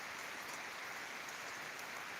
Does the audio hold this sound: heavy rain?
yes